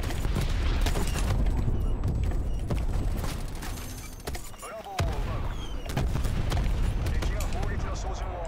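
In Call of Duty: Black Ops Cold War, an artillery barrage hits as a loud, dense rumble of blasts and rapid gunfire. The bursts churn continuously with a brief lull midway before the explosions resume.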